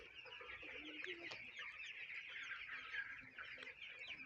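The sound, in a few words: chickens clucking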